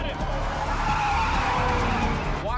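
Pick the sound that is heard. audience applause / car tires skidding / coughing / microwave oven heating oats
car tires skidding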